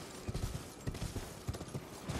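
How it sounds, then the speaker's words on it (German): Hooves of the summoned horse Torrent in Elden Ring, a quiet uneven series of low thudding steps, about a dozen over two seconds, with no talk. "Rufen wir mal unser Torrent, unser Pferd"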